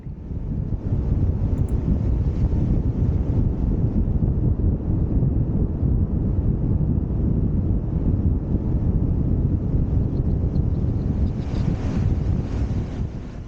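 Strong wind roars across the microphone while riding a Wolf Warrior 11+ electric scooter at speed, a loud, constant low rumbling buffet that fills the whole stretch with no voices.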